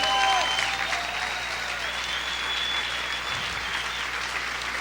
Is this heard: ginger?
no